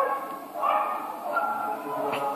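A dog barks at Crufts 2015, the dog show with an agility course, giving a few short yappy barks over steady crowd noise in a busy hall.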